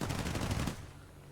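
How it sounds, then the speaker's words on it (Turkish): A brief, dense burst of machine-gun fire from the F-82E's fourteen guns firing together in War Thunder, loud and rapid for under a second before the sound tails off. "14 tane silahımız aynı anda sıktığımız zaman lazer gibi böyle çizgi halinde gidiyor."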